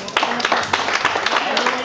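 Audience applause at an aquabike championship award ceremony in Nova Kakhovka, a steady patter of many hands clapping for about two seconds, mixed with crowd noise.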